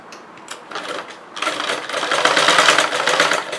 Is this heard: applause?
no